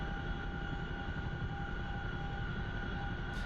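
A CH-47F Chinook helicopter in the DCS flight simulator, carrying external cargo, with its engines and rotors making a steady, continuous drone and hum that stays at an even loudness throughout, with no voices.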